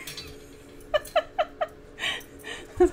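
A cat makes a series of short chirping meows, four quick calls in a row close to the mic, followed by a softer vocal sound.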